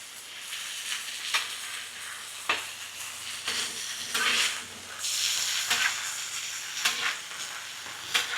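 Beef sizzles and crackles on a hot griddle, with occasional scraping and stirring bursts, close and continuous.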